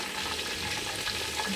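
Duck deep-frying in hot oil, a dense, steady crackling sizzle with no pauses, close and continuous throughout.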